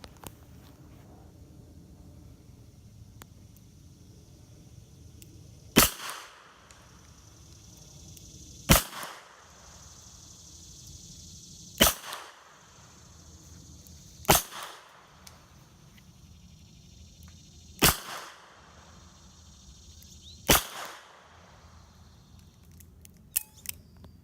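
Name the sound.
Smith & Wesson Model 19 revolver firing .38 wadcutters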